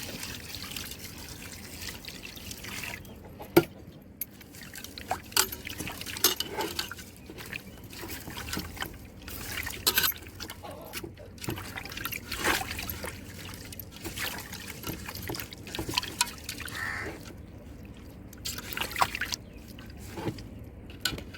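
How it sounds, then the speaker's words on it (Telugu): Fish are washed by hand with water, rock salt and turmeric, giving soft splashes, trickles and sloshing in a bowl, heard close and fairly faint, coming in irregular bursts with no talk. "పసుపు కూడా కొంచెం వేసి శుభ్రంగా కడుక్కోవాలి."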